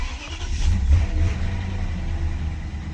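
A BMW 7 Series engine runs on a cold day after sitting for two days, a deep, steady low rumble with a brief rise in revs near the start, close and fairly loud.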